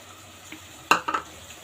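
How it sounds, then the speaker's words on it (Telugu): Green chutney being stirred with onions and tomatoes in a pan, one sharp spoon clank followed by a couple of quick scrapes over a low background hiss. "ఒకసారి అంతా బాగా కలిపేసుకుని"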